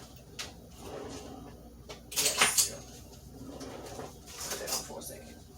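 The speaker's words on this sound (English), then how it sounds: "Do I have one of those little scoops over there that's in the drawer?" Someone rummages through a kitchen drawer looking for a small scoop, with two short bursts of clattering utensils amid quieter shuffling, while a person talks nearby.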